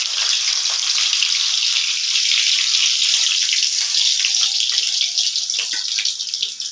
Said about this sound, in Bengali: ওইদিকে তেলটা গরম হয়ে গিয়েছে। এখন না আলুটাকে দিয়ে দিই।